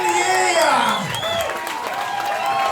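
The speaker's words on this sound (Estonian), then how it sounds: "suur aplaus ka korraldajatele" Concert audience cheering and whooping with scattered applause for the organizers at a live band show, a loud crowd roar with shouts and voices layered over steady clapping throughout.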